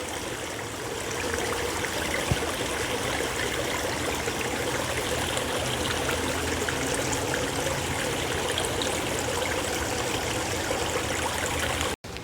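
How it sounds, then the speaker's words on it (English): Creek water runs over rocks at a ford in a state park, a steady close trickling and babbling stream that continues without pause and with no talking, then cuts off abruptly at the very end. "And here we are crossing that very creek."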